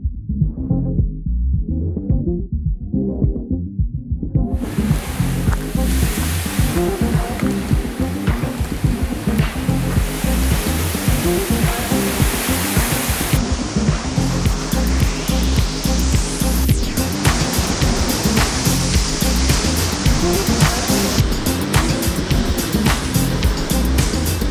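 Ocean waves on the Lanzarote coast, a loud continuous roar of surf and churning water that swells after the opening seconds and holds steady, close and dense with no voices.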